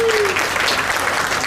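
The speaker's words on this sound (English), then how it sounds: "Let's give them all a great big round of applause" A large crowd at a youth and open swine breeding show claps in sustained, loud applause, with a brief tonal sweep at the start and faint voices underneath.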